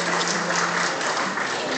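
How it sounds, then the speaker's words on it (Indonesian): A seated audience claps at a loan card ceremony at a regency launch event, a brief dense burst of applause heard up close. "Boleh tepuk tangan sekali lagi."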